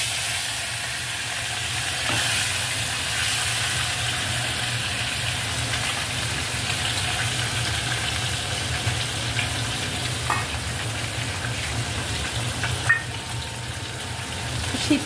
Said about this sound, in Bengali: কড়াইতে তেল আগেই গরম করতে দিয়ে দেওয়া হয়েছিল, এবার মাছগুলো ভেজে নেওয়া হবে।